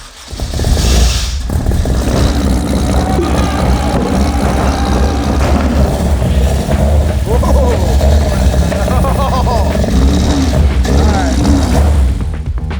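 A Honda Civic engine fitted with ITBs and cams runs roughly and revs loud and close, with rising throttle blips under a person talking.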